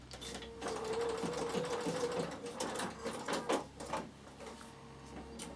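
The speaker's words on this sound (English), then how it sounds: "and I'll just stitch through that little seam." A Bernina sewing machine stitches through a fabric seam, running steadily and fairly quietly at close range, with a faint mechanical whir and light rattling throughout.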